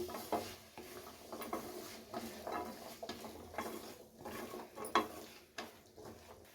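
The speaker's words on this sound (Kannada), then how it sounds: "ಇವಾಗ ಒಂದು ಸಲ ಮಿಕ್ಸ್ ಮಾಡ್ತಾ ಇದ್ದೀನಿ." Bottle gourd curry being stirred in a pan with a spoon, giving repeated scraping and clinking strokes over a soft sizzle, close and moderately loud, with no talking.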